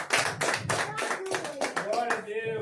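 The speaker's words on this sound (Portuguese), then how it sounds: "Uma salva de palmas para Jesus." A church congregation claps in rhythmic bursts during a worship service. The clapping is moderately loud and closely spaced, and tonal singing or voices rise underneath it toward the end.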